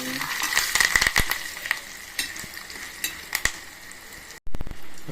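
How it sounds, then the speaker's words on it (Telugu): Curry leaves and turmeric sizzle in a pan of oil for tamarind rice, a steady crackling hiss with sharp metallic scrapes and clicks of stirring, cutting off briefly near the end. "కరివేపాకు పసుపు వేసుకొని"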